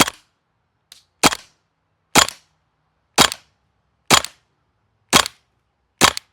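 Airsoft MP7 gun firing BBs, seven sharp cracking pops spaced about a second apart in slow, deliberate single shots, close and clear against silence, with a fainter extra pop early on.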